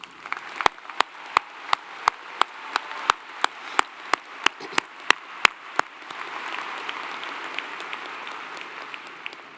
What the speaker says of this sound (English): I think you all deserve a very loud round of applause.